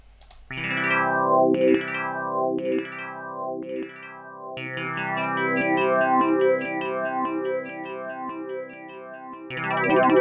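Synthesizer notes with the LFO set to sync to note, restarting its phase on each new note, so every attack carries the same modulated, chorused and slightly distorted sweep; a run of separate notes gives way to a denser, sustained passage.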